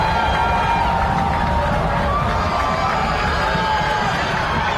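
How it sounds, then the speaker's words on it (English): A home crowd at a high school football game between West Orange and Passaic Tech keeps up a dense, steady roar of cheering and chatter throughout, loud and close. "Electrifying home crowd tonight, Ryan."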